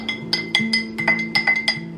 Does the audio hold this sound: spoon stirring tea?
yes